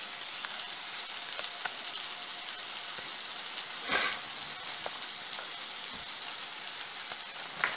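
Blue cheese stuffed burgers frying in canola oil in a heated pan, giving a steady dense sizzle with small crackles and pops, close and continuous.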